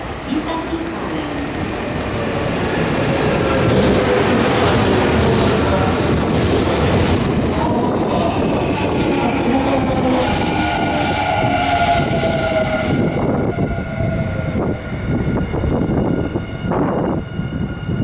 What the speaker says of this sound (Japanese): Arriving is the local train bound for Isaki-Koen.